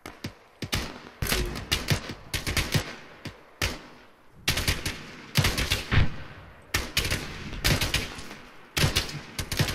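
Bursts of video game gunfire during an assault on a town, fired at a low rate, come in short rapid volleys separated by brief pauses, loud and close, with no voices.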